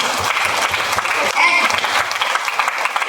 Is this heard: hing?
no